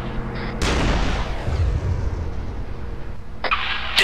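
Gunfire in the video game Arma 3, a heavy booming shot that rolls into a long decaying rumble, followed by a sharp second blast near the end, loud and close.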